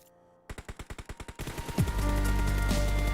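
Gunfire in the mobile shooter PUBG Mobile: about ten evenly spaced, punchy shots in quick rhythm, followed by a dense, continuous roar of rapid fire that stays loud to the end.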